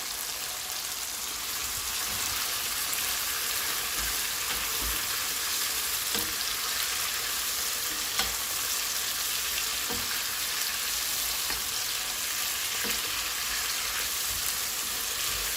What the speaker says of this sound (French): je vais rajouter mon poisson, donc le nzombo.